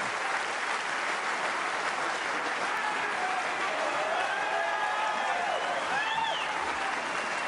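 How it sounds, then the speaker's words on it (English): Snooker crowd applauding steadily throughout, a dense, even wash of clapping from a large audience with faint voices and whistle-like calls rising over it toward the end. "Peter Ebdon applauding Ronnie"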